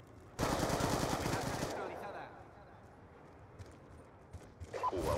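Rapid automatic gunfire in Call of Duty: Black Ops II, a loud burst of about a second and a half that fades out, followed by quieter game noise and a few soft clicks.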